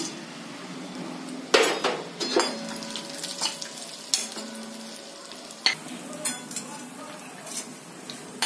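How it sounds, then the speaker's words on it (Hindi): Cashews roasting in a kadhai: a spoon scrapes and clinks against the metal pan in irregular strokes over a soft, steady sizzle, close up, with no talking. "अब इन काजू को भी सेक ले रही हूँ"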